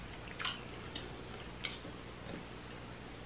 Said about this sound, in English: I'm chewing the artichoke.